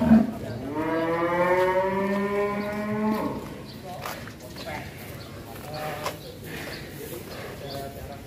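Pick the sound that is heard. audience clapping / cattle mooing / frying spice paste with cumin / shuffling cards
cattle mooing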